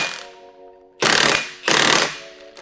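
Two loud close bursts from an impact wrench working on a 1JZ-swapped BMW E36, each about half a second of harsh hammering, with a humming tone in between.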